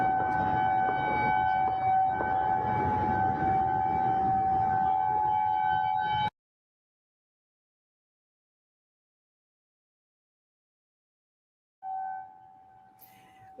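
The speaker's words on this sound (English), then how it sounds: "What you're hearing there is sirens going off just after that alert went out" Emergency sirens wail steadily right after an active shooter alert near the CDC in Atlanta, a loud sustained tone for about six seconds, then silence before the siren briefly returns.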